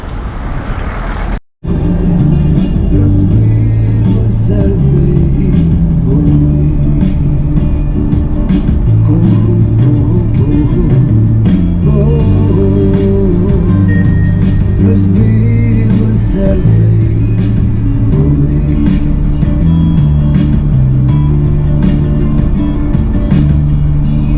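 A car drives toward a dacha with a loud, steady engine and road rumble running the whole way, broken only by a brief dropout near the start.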